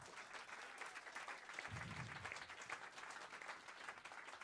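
At a live music gig, the audience breaks into sustained applause for the band, a dense, even wash of clapping heard from a distance throughout.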